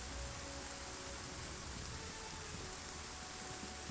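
Steady, dense rain hiss from a WW2 video game fills the whole stretch evenly, a constant wash of falling rain at moderate level with no voices over it.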